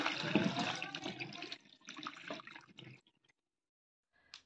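Carrots, cauliflower and green peas being rinsed by hand under running tap water in a home kitchen sink, a steady splashing gush for about three seconds that tapers to faint drips and a brief final trickle.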